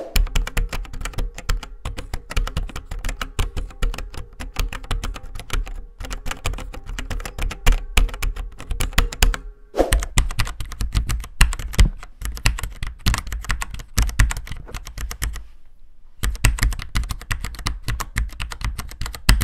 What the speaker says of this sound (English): how the actual keys sound themselves and how quiet they really are